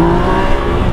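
A Yamaha MT-09 motorcycle accelerating, loud and close, its engine roaring with a dense, rising drone throughout.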